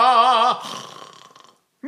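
A singer voices a phrase of the aria "Una furtiva lagrima" with a snoring rattle in the throat: a loud, close, wavering sung tone, then a raspy fading throat noise, a brief silence and the start of another sound.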